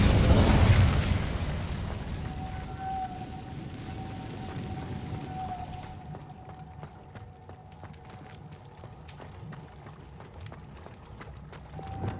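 A fiery Incendio spell bursts out in the Hogwarts Legacy video game, a loud whooshing blast at the start that fades into a low crackling rumble with a faint sustained tone and scattered small pops, no talk.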